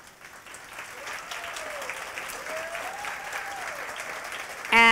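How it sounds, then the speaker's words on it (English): Warm applause from an audience at a high tea party on a university north campus, a steady wash of many hands clapping that holds evenly throughout, with a faint whistle-like tone drifting over it. "help me to recognize with a warm round of applause our chairpersons"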